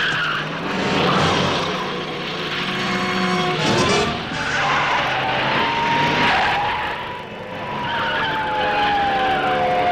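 A car pulls away fast with tyres skidding and squealing, a loud, close engine roar with a long screech that rises and bends through the whole stretch.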